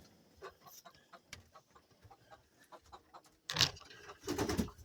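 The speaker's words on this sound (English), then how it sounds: "So me go in here and see what the chickens are doing" Hens cluck softly and intermittently inside a coop near roosting time, with scattered faint calls followed by two louder, closer bursts of squawking toward the end.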